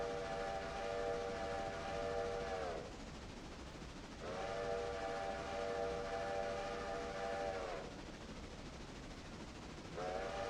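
A train rolls through a railroad switch, with steady rumbling wheel noise and a long, sustained tonal hum or squeal that drops out and returns in two or three stretches; nobody speaks.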